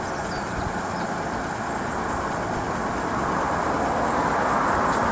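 A tow truck's engine idles nearby with a loud, steady rumble, a constant low drone with no breaks.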